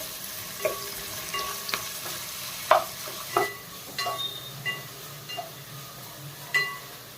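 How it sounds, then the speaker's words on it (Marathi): Sliced onions frying in spiced oil, a steady close sizzle with scattered stirring scrapes and light clinks of a utensil against the pan. "कांदा आहे ना आपल्याला चांगला याच्यामध्ये फ्राय करायचा आहे"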